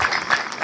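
Applause from an audience at a school ceremony in Rwanda, a brief burst of dense clapping that stays steady and fairly loud throughout, with no voices.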